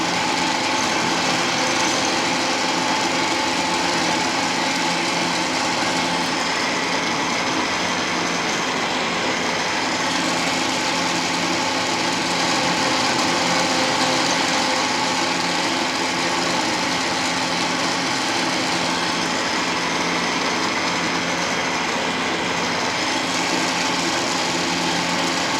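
A metal lathe takes 1 millimeter cutting passes while machining a retractable tool holder, giving a loud, steady machine drone that runs unbroken for the whole stretch with no speech.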